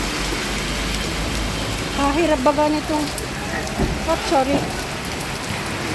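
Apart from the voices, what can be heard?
heavy rain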